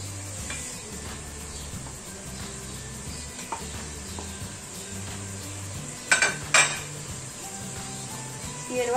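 Green beans go into a pot of beef stew and get stirred, giving a soft simmering hiss with light clinks and scrapes of a utensil against the pot and a brief louder clatter near the end.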